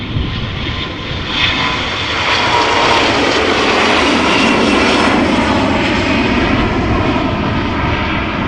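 An SAS CRJ 900 long-range jet airliner passes at Amsterdam Schiphol Airport, a loud continuous engine roar that swells and holds for several seconds, with no voices.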